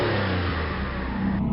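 A car engine revs and pulls away, a steady mid-pitched motor drone with rising acceleration, loud and close with no voices over it.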